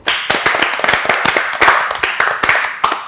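A group of people at a singers' music and games event clap together, the hand claps loud, close and quick, with a few slightly irregular beats in a short burst.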